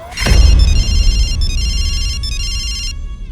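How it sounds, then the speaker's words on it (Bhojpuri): A telephone rings loudly and close by in a repeating electronic ringtone, three bursts of the tune after a sharp opening knock, with no talk over it. "फोन उठाओ"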